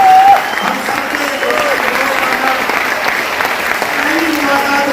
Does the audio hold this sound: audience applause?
yes